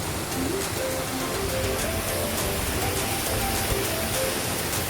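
Constant rushing wash of an artificial waterfall heard from a suspension bridge in a forested mountain park, loud and steady broadband hiss with faint tonal sounds from people nearby.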